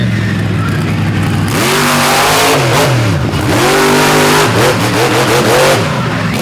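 A monster truck engine revs hard at a freestyle show in Benson, North Carolina, loud and close, with rising and falling pitch sweeps as the throttle opens and eases over continuous crowd and arena noise.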